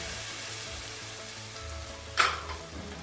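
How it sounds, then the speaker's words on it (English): Tomatoes frying in a pan with garlic and onions for a beef and okra stew, a close continuous sizzle with a brief louder burst of spatter near the end. "Here our garlic has cooked together with the onions."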